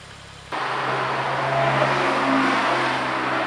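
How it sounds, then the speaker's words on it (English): An Audi S8 V10 and an RS7 roar past on a street in Greenwich, the engine noise swelling suddenly and staying loud and broad as the cars drive by close. "Nice S8 V10 and RS7."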